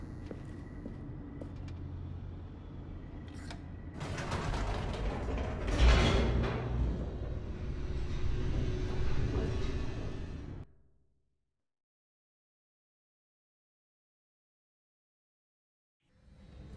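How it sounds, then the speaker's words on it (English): An elevator descends in the video game The Stanley Parable with a low mechanical rumble and creaking, swelling to a louder grinding rush midway before cutting off abruptly into silence, then resuming faintly at the end. "The elevator raced downward"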